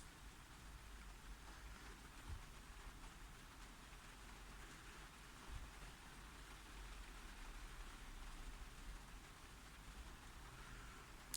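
Rain falls on a vehicle roof, a faint, even patter with a few louder drops, heard alone.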